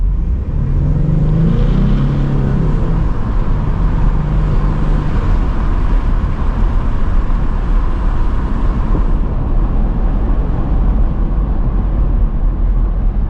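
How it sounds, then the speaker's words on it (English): A turbocharged Ford Mustang EcoBoost accelerates on an open road with the windows down, a loud, sustained engine rumble with rising tonal whine early on and heavy wind and road noise throughout. "I will shut up so you guys can listen to the turbo here"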